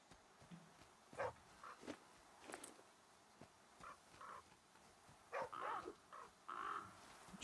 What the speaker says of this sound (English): shoo these other crows away